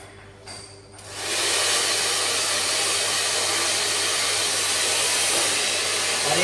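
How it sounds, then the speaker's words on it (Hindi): A hair dryer starts up after a quiet second and then blows steadily and loudly while bangs are styled with a round brush, a continuous broadband rush with no talking. "अब इसको ड्रायर से सेट कैसे करना होता है, राउंड ब्रश होना चाहिए आपके पास"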